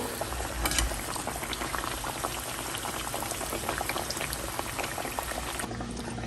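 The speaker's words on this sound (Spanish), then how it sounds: "Y la vamos a llevar al aceite." A handmade corn gordita sizzles in hot oil, a dense, steady crackle and bubbling that holds at an even level from start to end, with no voices.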